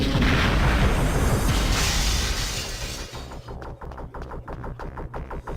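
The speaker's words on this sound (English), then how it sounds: "That piece of wall right there explodes." A rocket blasting a section of wall apart in the video game Perfect Dark, a loud booming explosion with crumbling debris that fades after about three seconds into quieter rhythmic throbbing.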